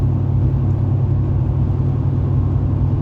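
A 2006 pickup truck, about fifteen years old and troublesome, cruises at night on a highway between Oklahoma City and Tulsa, giving a steady loud engine and road rumble from inside the cab with no talk.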